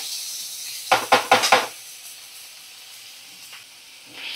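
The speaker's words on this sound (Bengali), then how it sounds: "সমস্ত পেঁয়াজ, টমেটো আর কাঁচা লঙ্কা এগুলো আমি দেখো দিয়ে দিচ্ছি। একটু সুন্দর করে ভাজা ভাজা হবে।" Onion, tomato and green chilli drop into a very hot oiled pan, setting off a quick run of loud, sharp hissing sizzles with metal clatter, then fading to a quiet simmer.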